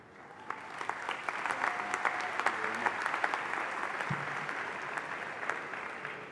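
A commencement crowd applauds steadily, with dense clapping that stays even for several seconds and brief voices mixed in.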